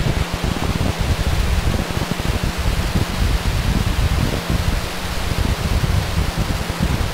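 A SpaceX Falcon 9 rocket roars after liftoff as a dense, steady, loud rumbling wash of noise that does not let up for the whole stretch.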